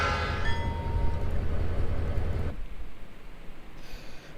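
A Southern Railway high hood SD40-2 diesel locomotive in the Trainz simulator, a low rumbling engine with a brief horn-like tone that cuts off abruptly midway, leaving faint background noise.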